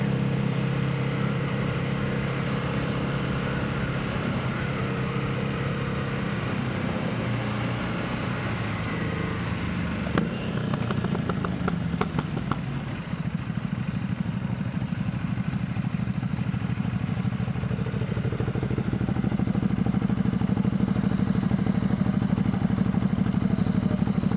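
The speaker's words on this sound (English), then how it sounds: "that SC Projects exhaust is so loud" A Ducati motorcycle with an SC Projects exhaust drones loudly and steadily for the whole stretch, with a rising, revving rumble toward the end, like riding along at speed.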